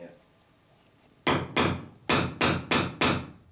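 A hammer taps a rivet in the wooden frame of a small boat with no dolly held behind it, giving five sharp hollow knocks in an uneven rhythm, close and loud after a quiet start.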